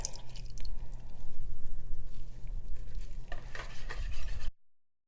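Soap batter is whisked by hand in a container, giving a soft, wet, continuous swishing that grows briefly busier near the end before cutting off into silence.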